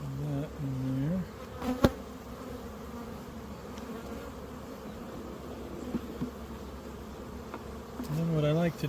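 Honeybees buzz steadily around hive frames during hive installation on a ranch, a dense close drone with louder swells as bees fly past, and a sharp knock partway through.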